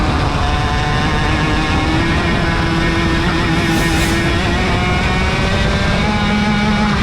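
Racing karts at a SKUSA Winter Series round roar around a race track, with a continuous loud, dense engine drone that holds steady and shows faint pitch shifts as the karts pass.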